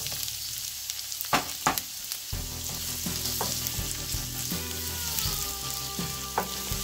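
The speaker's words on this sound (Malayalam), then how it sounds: "ഇതിലേക്ക് ഉള്ളിയിട്ട് നമുക്ക് വഴറ്റിയെടുക്കാം" Small onions sautéing in hot coconut oil, a bright steady sizzle with a few sharp spatula scrapes and clacks early on, close and prominent, no speech.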